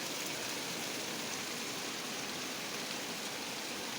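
Steady, dense hiss of rain falling, even and unbroken throughout, with no voices.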